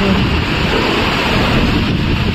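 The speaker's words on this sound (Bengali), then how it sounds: "আওয়াজটা শুধু শুনি, হাওয়ার আওয়াজটা দেখো।" Strong Kalbaishakhi storm wind roaring loudly and continuously, a dense rushing noise like pounding surf that never lets up, close to the microphone and with no voices over it.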